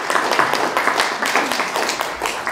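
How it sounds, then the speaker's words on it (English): Dense applause from a conference audience, a steady wash of many hands clapping at fairly close range for about two and a half seconds, with no talking over it. "applause."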